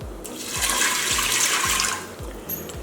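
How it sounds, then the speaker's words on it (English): Two cups of water pour steadily into a pot for about two seconds, a broad rushing splash with low thumps underneath, close and fairly loud. "And then you put your 2 cups of water."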